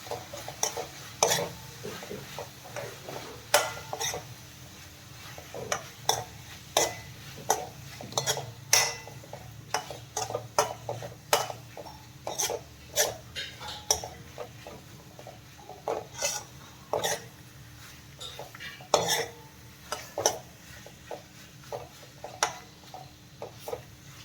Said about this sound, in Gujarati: હવે આપણે હલાવી લઈશું.